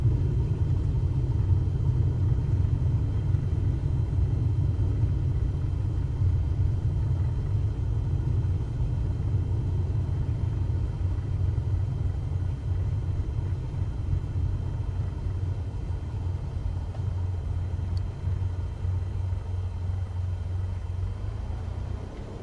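An airliner taxiing on a runway in Microsoft Flight Simulator 2024 gives a steady, low engine rumble and hum that holds evenly throughout, close and continuous with no talking over it.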